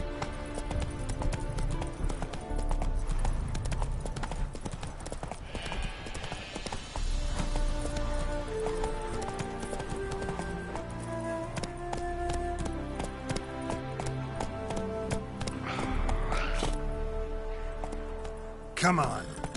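Rhythmic clip-clopping hooves of the horse Roach galloping in a PS4 video game, a continuous fast beat mixed with game music and effects, while a person talks over it.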